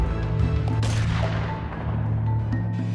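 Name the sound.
gunshot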